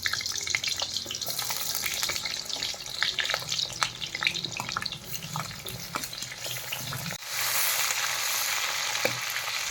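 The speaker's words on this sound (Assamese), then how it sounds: "ব্ৰইলাৰ বনাবৰ কাৰণে পিঁয়াজ জলকীয়া আগতে ভাজি ল'লোঁ।" Onions and green chillies fry in oil with a busy close sizzle and scattered stirring clicks, shifting near the end to a brighter, more even hiss.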